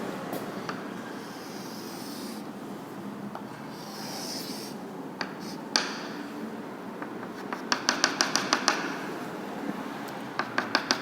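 A pen draws a figure on paper, giving faint scratchy strokes and light taps. Near the end the strokes come as quick, rhythmic bursts, all close by over quiet room noise with no talking.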